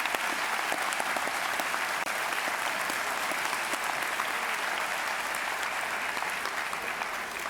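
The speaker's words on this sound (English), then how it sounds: "Yes, have a round of applause." At a high school graduation ceremony, an audience gives sustained, thick applause for a class celebrating its 50th reunion. The clapping is loud and steady throughout, with no speech over it.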